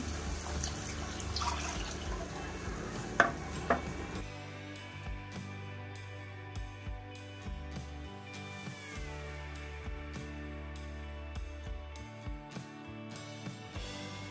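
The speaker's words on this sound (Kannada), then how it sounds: "ಸೊ ಈಗ ನಾನು ಇಟ್ಕೊಂಡಿದ್ನೆಲ್ಲ ಹಾಲು ಅದನ್ನು ಪೂರ್ತಿಯಾಗಿ ಇದಕ್ಕೆ ಹಾಕ್ಕೊಳ್ತೀನಿ" Milk poured in a steady stream into a pan of fried carrots for carrot halwa, a soft liquid trickle and dribble followed by faint sizzling and light clinks, quiet and close with no talking.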